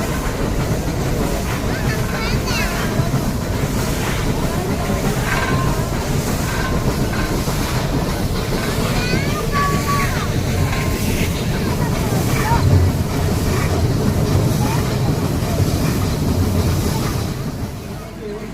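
The Mettupalayam to Ooty mountain railway train rumbles and clatters steadily along the rails, with a constant dense roar, faint squeals and scattered voices under the noise.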